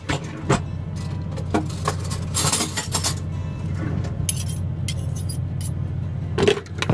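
A spoon is picked up from a set of cutlery, with bright metallic clinks and jangles repeating close by over a low steady hum, a few louder rattles near the end.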